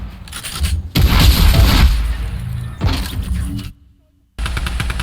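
Gunfire in Fortnite, a loud burst of rapid shots followed by a second shorter volley, then a brief silence before more firing resumes.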